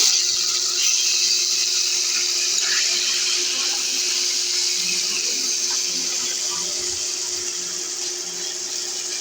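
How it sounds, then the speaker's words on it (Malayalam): Small anchovies sizzle as they fry in hot oil in a pan, a loud, steady, hissing crackle that carries on without a break. "ഈ നെത്തോലി നമുക്കൊന്ന് വറുത്ത് കോരാനാണ് കേട്ടോ."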